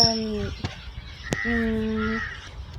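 Crows caw repeatedly at the Vedanthangal bird sanctuary lake, harsh harmonic calls in two or three bursts with a sharp click between, fairly close over faint outdoor background.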